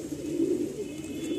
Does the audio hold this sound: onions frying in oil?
no